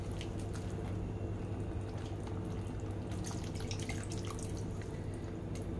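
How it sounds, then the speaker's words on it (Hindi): Water pours into soya keema in a cooking pan, a faint steady trickle and dripping with light splashes over a low background hum. "पानी ऐड करेंगे इसमें, अच्छी तरह से मिक्स करते हैं।"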